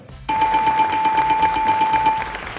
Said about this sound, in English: let me press the buzzer now and see who I get to speak to